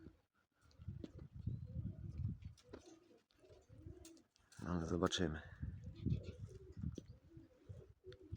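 Pigeons coo in low, throaty rumbles, repeated and close by, while someone speaks briefly over them.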